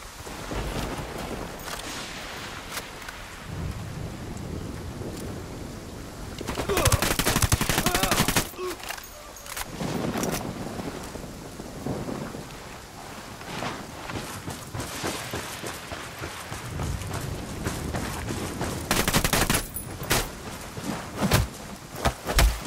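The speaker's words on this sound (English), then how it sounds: "Shooting." Bursts of gunfire in a shooter video game come in loud, clustered volleys separated by quieter stretches, with sharp automatic rattles standing out.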